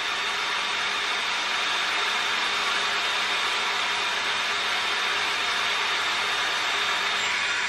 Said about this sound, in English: Okay, it does sound like a vacuum cleaner.